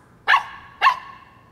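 A cartoon puppy gives two sharp, clear barks about half a second apart, each followed by a short ringing tail, with nothing else around them.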